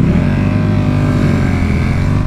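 A motorcycle engine, a new bike with about 95 km on it, runs loud and steady at high revs, a dense continuous drone held throughout with no talk over it.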